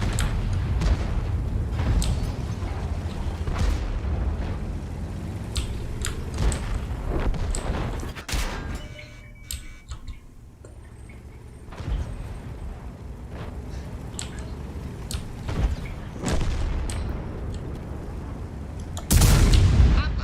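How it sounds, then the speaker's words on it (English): Inaccurate 15-centimeter cannon firing, a series of sharp booms spaced across the stretch with a quieter lull in the middle and a final loud blast at the end, each followed by a rumbling decay. "Inaccurate 15-centimeter cannon."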